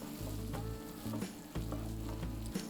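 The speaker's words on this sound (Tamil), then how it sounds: "அந்த ஆலிவ் ஆயிலில் அந்த ஸ்லைஸ்ட் ஆனியன் நல்லா ரோஸ்ட் ஆகுது." Sliced onions frying in olive oil for a vegetable biryani, a steady close sizzle with soft stirring scrapes recurring through it.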